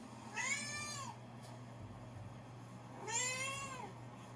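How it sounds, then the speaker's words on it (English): A domestic cat meows twice, each call a rising-then-falling wail about a second long, spaced a couple of seconds apart over a low steady hum. "Where exactly am I supposed to find a recording of a cat going meow?"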